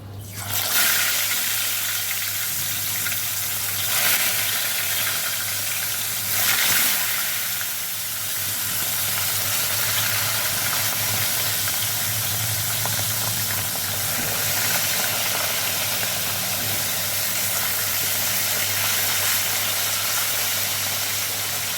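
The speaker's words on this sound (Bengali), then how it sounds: "আমি মাছগুলোকে এবার ভেজে নেবো" Continuous loud hiss and sizzle of catla fish pieces frying in hot oil, steady throughout with a low hum beneath.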